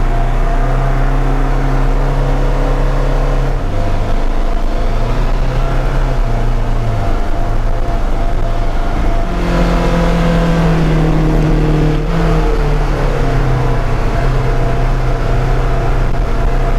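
A Polaris Xpedition UTV drives on a test run, its engine droning loud and close throughout with steady low tones that shift pitch as it changes speed, alone with no talk.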